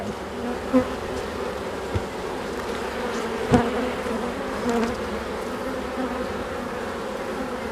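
Honeybees drone steadily from an open hive during a colony inspection, a dense close hum that fills the whole stretch with a few brief knocks and bumps of handling the frames.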